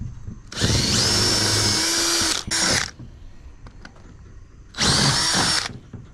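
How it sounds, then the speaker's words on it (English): A power drill bores 3/8-inch holes wider in wood, running in two loud, sustained whirring bursts: a long one with a brief dip near its end, a pause, then a shorter second run. "I got a 3/8 drill bit. I'm just gonna make them just a little bit bigger"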